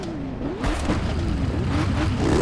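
Aston Martin Vulcan engine in The Crew 2 video game revving loudly and steadily, with rising and falling pitch sweeps over a continuous deep roar, close and alone with no talk.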